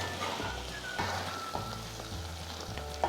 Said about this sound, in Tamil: நல்லா வதங்கி நம்ம ஊற்றின எண்ணெய்லாம் எப்படி மேலே நல்லா மிதந்து கொதிக்குது பாருங்கள்